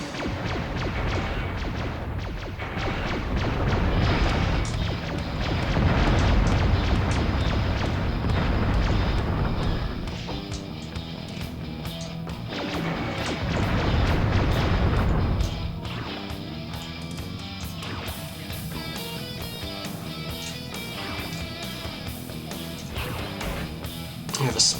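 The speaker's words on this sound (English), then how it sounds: "We have a spread fire cannon." A spread fire cannon in Descent on PS1 fires repeated blasts that swell into loud rumbling bursts, with thuds and explosions over a busy game background. Someone talks throughout.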